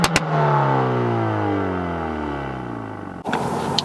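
A Hyundai N performance car revs hard with its active exhaust and all drive settings at full, rising in a long, loud climbing sweep with close-up engine harmonics, then cutting off with a brief crackle before the exhaust settles into a steady idle.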